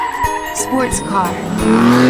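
A sports car's tires squeal loudly in a short burst, the screech giving way to a rising engine whine near the end.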